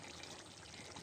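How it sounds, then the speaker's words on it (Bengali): Water pours steadily into cooked-down chicken curry in a pan, a continuous soft trickling and splashing, close and fairly quiet, with no voices. "একটু পানি দিয়ে দিলাম।"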